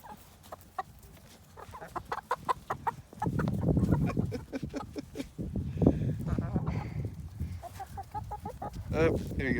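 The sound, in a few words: chickens clucking while being fed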